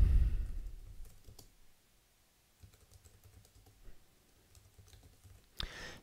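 Someone types on a computer keyboard while writing a chapter synopsis in writing software, producing sparse, quiet, close key clicks at irregular intervals, with a louder thump at the start and another near the end.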